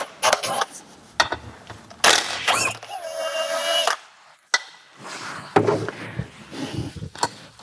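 A ratchet works a 13 mm bolt loose inside a disassembled Volkswagen gearbox, giving bursts of close metallic clicking and clunks of handling parts, with quieter gaps and a brief squeaky whine in between.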